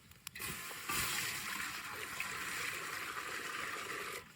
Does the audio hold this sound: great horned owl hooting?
no